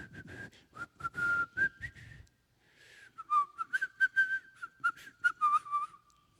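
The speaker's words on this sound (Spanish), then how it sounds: "Qué bien silbo, ¿no?" A person whistles a lilting melody in two bursts separated by a short pause, close and clear with no talking over it.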